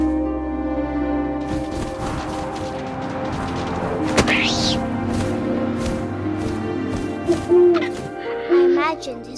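Owl hooting within the eerie soundscape of What Remains of Edith Finch, layered over music and wind with a rising swoop midway and a few sharper calls toward the end, while a voice narrates.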